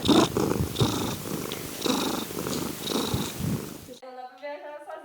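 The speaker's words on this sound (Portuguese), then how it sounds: "Essa é a gatinha." A pet cat purrs close up in a steady, rumbling rhythm for about four seconds, with faint voices mixed in, then a brief stretch of different sound follows.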